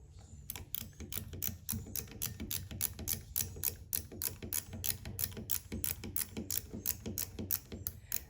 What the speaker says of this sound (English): You notice I have a stubby 9/16. I do not have an impact out here. Zizzing these down.